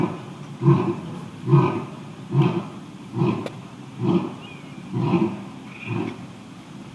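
A lion in a zoo enclosure gives a rhythmic series of deep, grunting roars, about seven evenly spaced pulses, loud and fairly close, with no talking.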